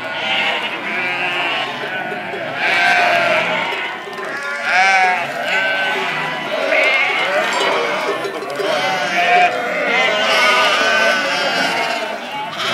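Many sheep and lambs bleat over one another in a loud, continuous chorus, the wavering cries overlapping throughout.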